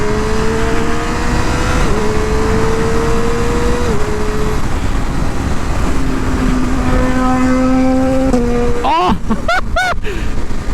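Triumph Daytona 675R triple-cylinder sport motorcycle exhaust, a steady loud engine drone with pitch shifting up and down through gear changes, then sharp rising revs near the end, heard from onboard under constant wind noise.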